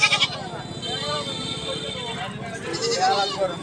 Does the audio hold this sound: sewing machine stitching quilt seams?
no